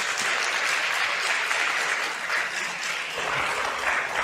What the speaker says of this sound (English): Let's give him a round of applause so we can get some energy in the room.